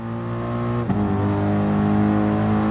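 A race car in Gran Turismo Sport accelerating hard through a corner, its engine a steady loud drone that climbs in pitch after a brief dip, with no talk over it.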